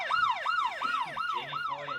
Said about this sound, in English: it's a long siren